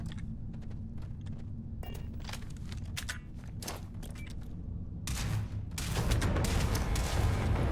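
Bursts of gunfire in Starfield, a rapid string of sharp shots with short pauses, building into a louder, denser volley with rumbling impacts near the end.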